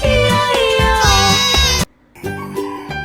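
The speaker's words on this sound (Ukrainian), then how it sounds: "Упізнали ви козу?" A goat bleats loudly and repeatedly over a bright musical backing, dropping out briefly mid-way before the bleating resumes.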